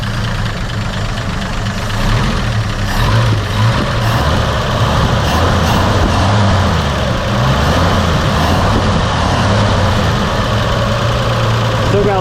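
Engine of a 1958 Chevy Apache truck, run again after sitting 20 years, idles loudly and close with a knocking rumble, then revs up and holds at a higher, steady pitch.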